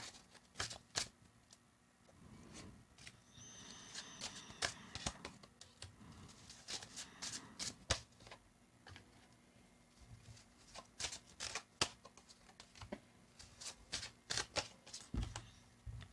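Crisp, quick riffling bursts of tarot cards being shuffled, repeated several times with short pauses between, close and fairly quiet.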